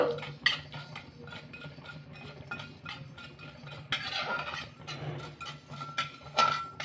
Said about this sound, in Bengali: সবগুলোকে আমি একটু ভেজে নেব